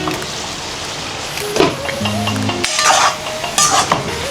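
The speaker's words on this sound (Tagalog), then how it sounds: "Pwede ko nang haluin to." A metal spoon scrapes and clinks against a cooking pot while Filipino adobo is stirred, a few scattered knocks and rattles over a low background hiss, with no talking.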